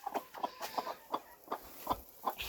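A broody hen sitting on eggs clucks in a quick run of soft, evenly spaced notes close by, fairly quiet, with no talk.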